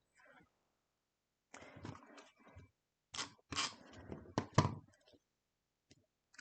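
Scissors trim the excess off a paper strip at a scrapbooking table, giving a few quick close snips and crunchy cuts in short bursts separated by pauses.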